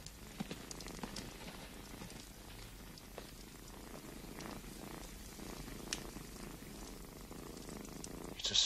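A cat purrs in a steady, soft, continuous rumble, close but quiet, with no talk over it.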